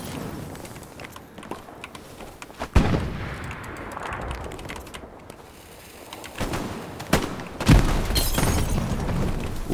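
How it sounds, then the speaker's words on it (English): A grenade blast in the WWII shooter Hell Let Loose on PS5: a heavy boom partway through, with further distant blasts and gunfire rumbling amid battlefield ambience, fairly loud, no talking. "I'm gonna throw a grenade."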